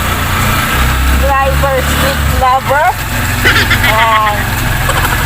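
Motorized tricycle engine running during a rainy ride, a steady low drone with rougher bursts of revving, heard up close beneath a talking voice.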